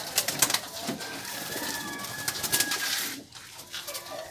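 Racing pigeons cooing in their loft, soft repeated coos with a few higher chirps and light rustling, fairly close and without speech.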